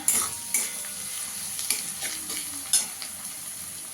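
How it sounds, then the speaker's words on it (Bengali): Salted onions fry in a pan as a spoon stirs them, a constant close sizzle broken by several sharp scraping knocks at irregular intervals. "আমার পেঁয়াজটা একটু লাল লাল করে ভাজা হয়ে গেছে"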